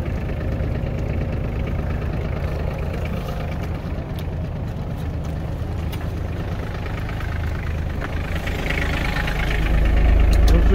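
An ISEKI GEAS 33 tractor engine runs in forward rotation, a steady close diesel-like idle with a low rhythmic knock that swells louder near the end.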